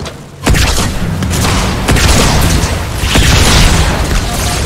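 Rocket launcher explosions in the Halo video game roar in a sustained, loud rumble of deep booms layered over one another, with heavy blasts standing out at the start and late in the clip.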